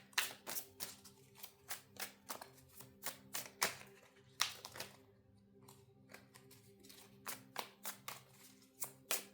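Small tarot cards are shuffled by hand in a rapid series of soft, papery slaps and taps that keep a fairly steady rhythm, recorded up close in a quiet room.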